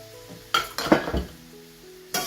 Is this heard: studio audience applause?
no